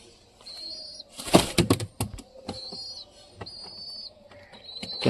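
Pigeon flapping its wings in a burst of loud, rapid clattering wingbeats up close, preceded and followed by thin whistling tones and quiet background noise.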